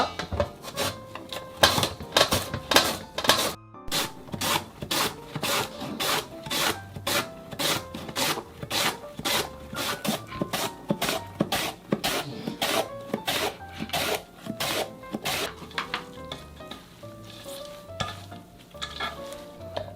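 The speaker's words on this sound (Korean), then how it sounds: "채를 너무 굵지 않은 채로 이렇게 채칼에다 좀 썰어주세요" Vegetables shredded on a julienne slicer for Chungcheong-style kimjang kimchi: a steady, rapid series of close, loud rasping strokes, evenly rhythmic with a brief pause early on, no talk.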